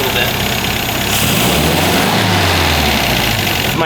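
An MG-TD engine idles while its carburetor is richened, a loud, continuous, rough rumble that swells slightly in pitch midway, recorded up close.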